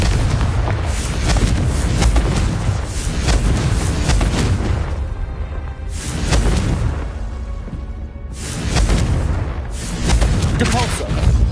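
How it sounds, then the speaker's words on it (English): Repeated fiery blasts from the Confringo spell in Hogwarts Legacy, loud booming bursts with broad rumbling decay, several in succession over a dense game soundscape. "Confringo!"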